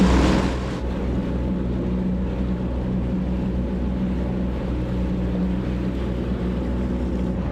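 A Yamaha WaveRunner personal watercraft idles slowly through Mystic Harbor, its engine a steady close drone with water wash beneath, continuous and unbroken throughout.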